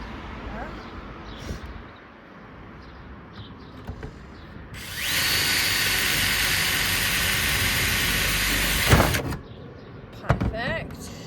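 A power drill bores holes through a van roof for mounting a solar panel kit, a loud steady whine lasting about four seconds amid quieter handling knocks and a voice speaking nearby.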